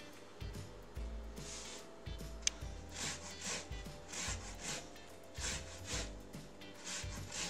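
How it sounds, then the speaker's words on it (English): A lemon is zested on a microplane grater in repeated short scraping strokes, close up and fairly quiet, with light taps of the grater between passes and no talking. "This is what the lemon zest starts to look like as used along the microplane."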